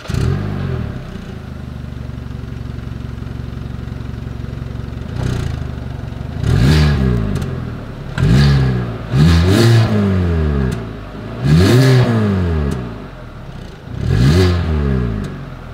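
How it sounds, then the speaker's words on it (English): A 2022 Hyundai Venue's single exhaust idles steadily, then is revved hard about five times in quick succession, each blip rising and falling sharply, recorded close with no talking. "As always, here is that exhaust clip."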